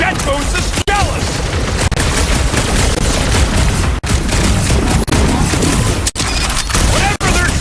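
Enemy gunfire in the Guardians of the Galaxy video game: a loud, dense, continuous barrage of blasts and booms, broken only by a few brief dropouts.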